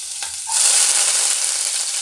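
Garlic hitting hot oil in a pan already holding cumin and popped mustard seeds, a sudden loud sizzle that bursts in after a faint start and holds steady, close up with no talk.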